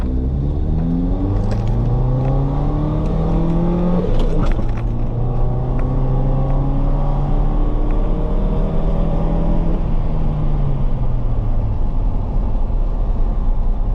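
An engine revs up and accelerates, its pitch climbing in rising sweeps, then settles into a steady rumbling drone as the vehicle cruises along.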